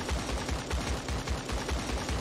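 Rapid automatic gunfire in the shooter game Creative Destruction, a fast steady train of punchy shots repeating in an even rhythm throughout, loud and close.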